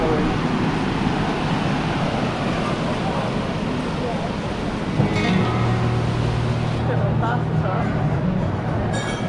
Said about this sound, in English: this is where the best surfers can catch the best waves